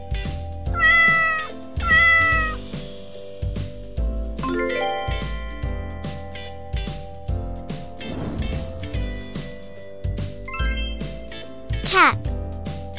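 Several cartoonish cat meows ring out at intervals over a bright, bouncy musical backing with chimes and short jingles.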